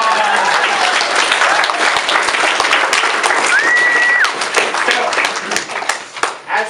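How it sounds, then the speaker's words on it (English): Loud, dense applause from a workshop audience at a convention acting session, sustained clapping filling the room and tapering slightly toward the end, with faint voices mixed in. "Give a round of applause."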